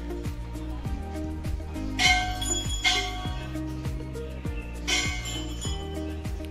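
Bells hung as offerings at the Baleshwar Mahadev and Golu Devta temple in Champawat jingle and clink in a few bright bursts over a steady, rhythmic background, with no talking.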